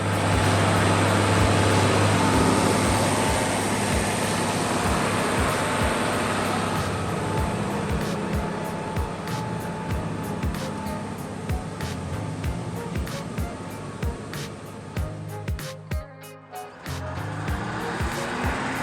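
A logging truck with a six-cylinder turbocharged diesel of about 136 horsepower, hauling two full log bays, charges up a slippery muddy slope; its engine drones loudly and continuously, with rattling clatter toward the end.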